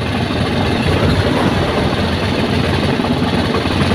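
A freshly top-overhauled motorcycle engine runs steadily up close, a loud continuous rumble with no talk over it.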